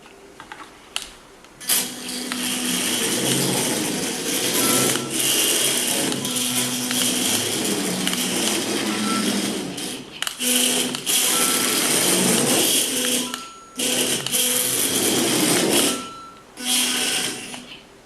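A LEGO Mario Kart remote control car drives around a tabletop, its small motor giving a steady buzzing whine in bursts that stop and restart several times, close and fairly loud.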